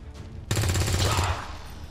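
A rapid burst of automatic gunfire in the video game XCOM 2 crackles loudly for under a second after a brief quiet lead-in, then trails off into a fading echo.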